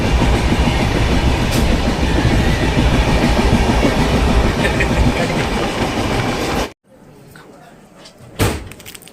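A train passes close by in Odisha, near Puri and Khordha, its loud broad rumble and rattling wagons running steadily, then cutting off sharply, followed by a quieter pause and a brief bang like a door slam.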